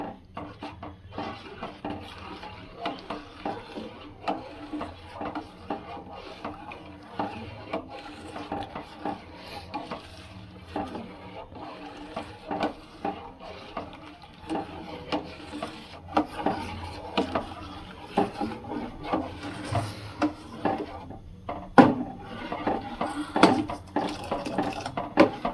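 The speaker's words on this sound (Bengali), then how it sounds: "এখন একটু নাড়তে হবে যাতে তলায় দুধটা লেগে না যায়" Milk is stirred in a pot over heat for a traditional Bengali pithe puli sweet, giving a steady, close scraping and rubbing of a spoon against the pot base, with irregular clinks and swishes continuing throughout, no talking.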